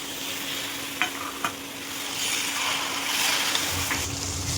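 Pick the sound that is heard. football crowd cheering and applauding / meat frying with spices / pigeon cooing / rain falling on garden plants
meat frying with spices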